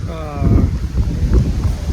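Strong wind blows on Puri Beach, rumbling and buffeting the microphone continuously, with faint voices and a brief tonal sound underneath.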